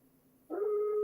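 A human voice imitates a wolf howl, rising into one sustained, steady tone after a quiet lead-in. It is fairly faint and heard alone.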